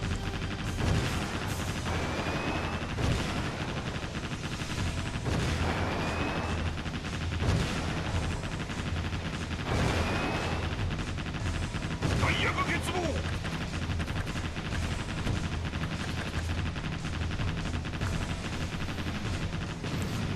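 In the naval combat game Warship Gunner 2, a ship's machine guns and missile launchers keep up a steady barrage, with rumbling blasts running under a continuous wash of battle noise and someone talking over it.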